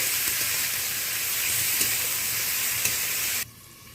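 Spices with a little turmeric being stirred and fried in a pan for an egg curry, a continuous close sizzle with faint scraping strokes that cuts off abruptly near the end.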